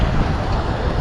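Steady wind rushing over the microphone during a fixed gear bike ride on a hot day, a continuous low buffeting roar with no talking.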